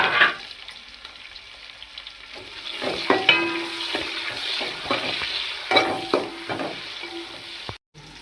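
Sliced onion and green chili frying with whole spices for green pulao, a steady bright sizzle with intermittent stirring scrapes and clinks, close, ending in an abrupt cut.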